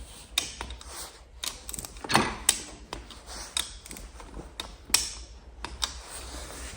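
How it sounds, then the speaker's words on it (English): A torque wrench tightening the cylinder nuts on a Honda XL500 motorcycle engine: sharp mechanical clicks and ratcheting snaps at irregular intervals, close and fairly quiet, with no talk. "So I'm gonna torque these to 80 inch-pounds and then again to 160 and then the final 240."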